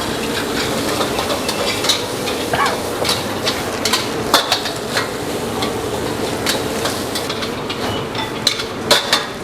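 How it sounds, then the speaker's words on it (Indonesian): Five packs of instant noodles boil in a large pot of water for spicy mie nyemek, a steady bubbling hiss with occasional clinks and knocks of a utensil against the pot. "kita bakal rebus mie nya dulu"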